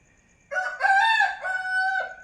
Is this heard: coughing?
no